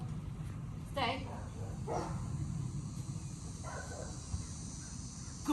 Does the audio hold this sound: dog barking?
yes